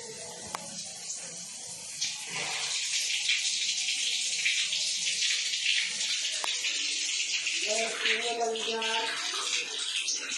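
A shower runs with a strong, steady hiss of falling water, close and continuous, while voices chatter over it and a few knocks and clatters sound.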